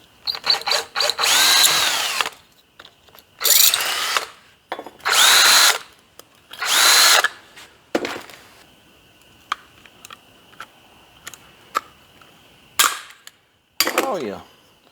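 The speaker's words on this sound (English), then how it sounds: "let me drill these holes out and put some new rivets in it" A power drill bores rivet holes in the metal body of a 1940 Chevy coupe, with four loud close whining bursts separated by pauses, followed by scattered clicks and two brief final spins.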